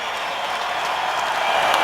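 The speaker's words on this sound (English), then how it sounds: "Crowd on its feet in Nashville." Hockey crowd in a Nashville arena cheers and applauds steadily, a dense, loud, continuous roar of clapping throughout.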